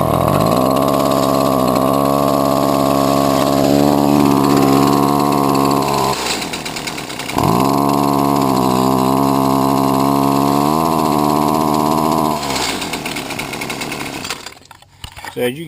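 A weed eater with a fouled spark arrestor drones steadily at a low, strained pitch, unable to rev up, briefly dropping and restarting its buzz partway through before tailing off at the end.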